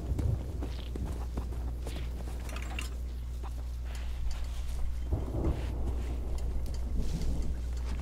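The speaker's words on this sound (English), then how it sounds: "I'm not gonna stay long since that storm rolling in." A thunderstorm rolling in at sea in Sea of Thieves, with low rumbling thunder under steady rain and scattered knocks and footsteps on a wooden ship deck.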